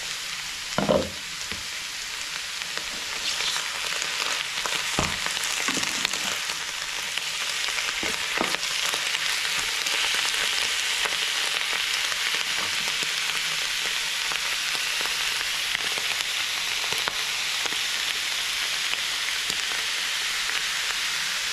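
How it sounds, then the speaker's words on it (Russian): Chanterelle mushrooms picked in the Moscow region fry in a pan with a constant close sizzle and crackle, broken early on by a few louder pops and stirring knocks, and no one speaking. "Пожарила грибы, и получилась у меня полная тарелка лисичек."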